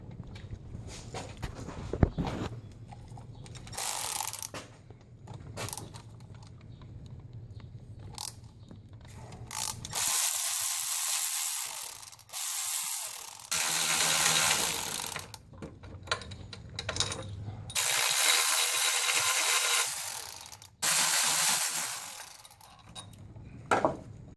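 Bolts being removed from a bracket on a Vortec V8 engine during intake manifold gasket work, with clicking ratchet strokes, metallic clinks and tool handling at close range in a garage, continuing in long dense stretches.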